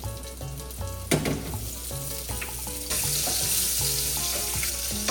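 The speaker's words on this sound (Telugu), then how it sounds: "గరం మసాలా అవి వేగుతూ ఉంటాయి" Whole garam masala spices frying in a pan, a dense close sizzle with occasional clinks that swells into a louder, brighter hiss partway through, with no voices.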